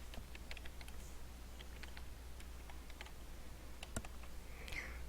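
Faint, scattered keystrokes on a computer keyboard while entering Python code, quiet irregular clicks with a sharper tap near the end over a low background hum.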